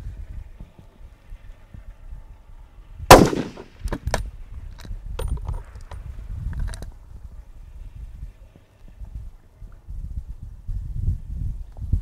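A 7mm rifle fires a single sharp, loud gunshot at an outdoor 800-yard F-Class match, followed by a few fainter cracks and clicks over low wind rumble and background murmur.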